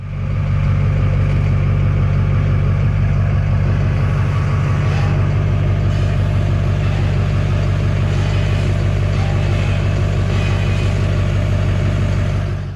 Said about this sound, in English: the rear U-joint at the rear end there has gone bad. Here's what it sounds like.